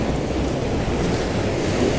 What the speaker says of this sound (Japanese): あー波が高い、危ない危ない危ない。